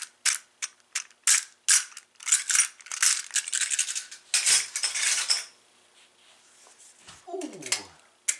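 A Quickset 980 deadbolt with a smart key cylinder and tarnished brass-finish screws is handled up close: a run of sharp metallic clicks and rattles, dense and loud at first, then fading to a quiet stretch with a faint sliding scrape.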